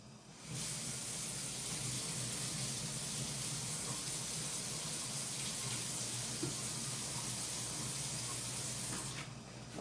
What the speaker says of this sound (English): I'm over here draining the pasta